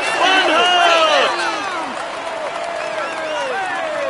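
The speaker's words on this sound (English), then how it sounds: "Come on, let's applaud him once more" A crowd applauds and cheers for cyclist Wout van Aert on the Tour de France podium after he wins the stage green jersey, with steady clapping and occasional whoops under ongoing announcer talk.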